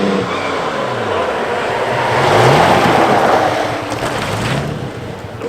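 A pre-war vintage racing car charges up the Prescott hill climb, its engine roaring loud and close, swelling as it accelerates past and then easing slightly as it pulls away, with no talk over it.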